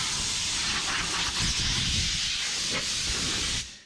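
Compressed air hisses steadily from an air nozzle as it blows debris out of the floor of a 1973 Chevy truck cab, a loud continuous rush lasting several seconds before it cuts off.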